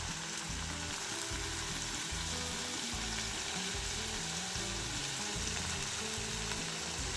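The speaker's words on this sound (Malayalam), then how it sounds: "പച്ചമുളകും കൂടി ഇട്ട് ഇളക്കി നല്ല വഴന്ന്" Green chilies sizzle steadily in a frying pan as they are stirred, in Kerala-style cooking of netholi (anchovy) peera, with a continuous loud frying hiss and soft stirring scrapes throughout.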